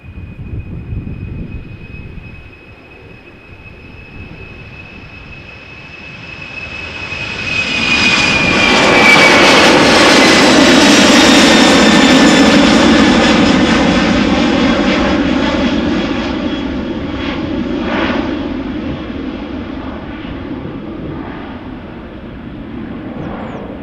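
An Icelandair Boeing 767 takes off from runway 36L at Amsterdam Schiphol. A thin engine whine gives way to a swelling jet roar that peaks loudly midway, then holds a sustained rumble.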